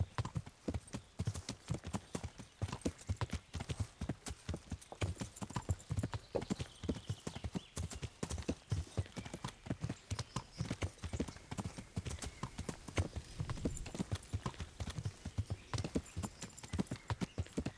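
Horse hooves clip-clop steadily at a brisk, even rhythm while riding in the medieval game Kingdom Come: Deliverance, close and continuous throughout, with occasional faint neighing and quiet game ambience behind.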